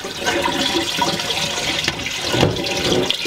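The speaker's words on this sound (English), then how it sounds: "I'm just going to give that a little bit of water, just to wash off any excess tannins." Steady gushing splash of tap water running over acorns in a container, loud and continuous, with no voices.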